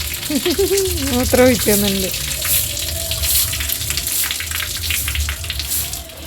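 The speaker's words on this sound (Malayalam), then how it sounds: "ഇതിലേക്ക് വെള്ളം വെള്ളം ഒഴിക്കുന്നുണ്ട്" Water poured into a container, a steady splashing flow that runs continuously, with a voice briefly speaking over it at the start.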